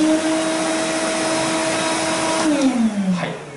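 An older Makita cordless dust extractor runs at full power, giving a loud, steady whine with constant tonal hums that begins to drop in pitch near the end as it winds down, with no talking.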